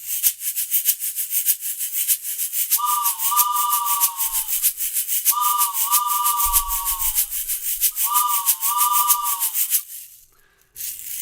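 A toy train whistle blows three times in two-tone hoots over a steady rhythmic shaker, together imitating a train chugging along the tracks.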